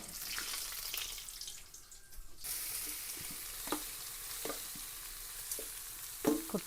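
Cabbage stir-fry with chana dal and dried chilli frying in a pan: a steady hiss swells after a quiet start, broken by several distinct scraping and tapping stirs from the spoon against the pan.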